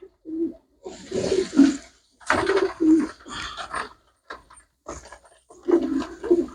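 Pigeons give repeated low, throaty coos in short rounded bursts separated by brief pauses, close by in a quiet setting.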